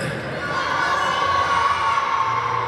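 A crowd of young football players at a tournament closing ceremony shouts together in one sustained loud cheer lasting a few seconds, with overlapping whoops and children's voices.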